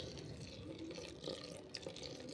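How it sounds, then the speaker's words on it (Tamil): Water poured into a maida and semolina dosa batter in a home kitchen, a faint, steady liquid trickle and splash with a few soft drips. "இப்போ வந்து இதில் தண்ணி ஊற்றி அப்படியே விட்டுரும் ஊறட்டும்"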